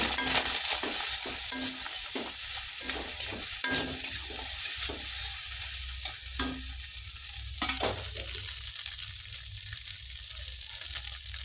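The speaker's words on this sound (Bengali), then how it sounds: "সয়াবিনটাকে ভেজে নেব তেল দিয়ে দিয়েছি হিট হয়ে গেলে সয়াবিন দিয়ে দেবো" Soybean chunks frying in hot oil with turmeric and salt, a loud, steady sizzle with bursts of crackle and spoon or spatula scrapes as they are stirred, close up and with no talking.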